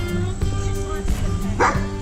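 A dog barks a few times close by, short yips and woofs over steady background hum.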